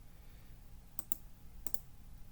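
A computer mouse double-clicks twice, each a quick pair of crisp close clicks, selecting a steel plate in bridge design software over a quiet room hum.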